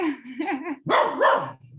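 A dog barks a few times close by, loud short barks with a yippy edge in a home setting.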